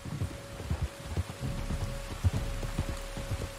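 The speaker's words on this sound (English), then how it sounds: "You were right about the damn rain." Rain falls steadily in Red Dead Redemption 2, a soft continuous patter with heavier drops and low thuds pulsing underneath, fairly quiet and without speech.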